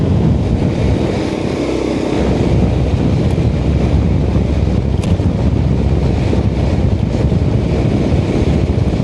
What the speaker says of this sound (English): Engine's running sweetly.